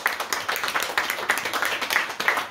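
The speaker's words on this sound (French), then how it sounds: "donc vous pouvez l'applaudir également" Audience applause at a French literary conference on writing for children, a steady patter of many hands clapping alone for a couple of seconds at moderate level.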